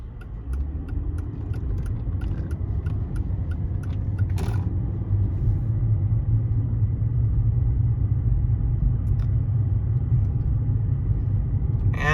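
A new Mopar car's engine gives a steady low rumble heard from inside the cabin while driving, smooth and quiet, with a brief rattling click partway through and no talking.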